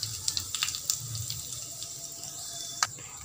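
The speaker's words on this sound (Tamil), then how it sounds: "இது நல்லா பொரியட்டும்." Fennel, cinnamon, cloves and cardamom fry in hot oil for empty salna, giving a soft steady hiss broken by scattered sharp crackles and pops, fairly quiet and close, with no talking.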